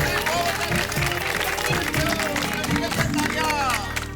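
Audience in a Hindi TV comedy scene clapping loudly and continuously, dense applause with crowd noise filling the whole stretch at steady volume, with some voices mixed in.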